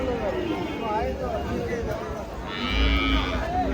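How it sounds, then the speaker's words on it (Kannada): A young bull moos at a busy cattle market, its low call rising near the end over a steady babble of crowd chatter and talk. "ಮರಿ ಎತ್ತು"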